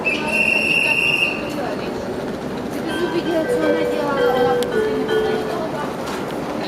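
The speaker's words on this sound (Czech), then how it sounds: "Vlak Intercity číslo 1005 RegioJet ze směru Praha hlavní nádraží přijel k nástupišti číslo 3" A RegioJet Intercity train squeals and rumbles as it pulls into a platform at Ostrava Svinov station, with high metallic wheel screeches over a Czech station announcement voice.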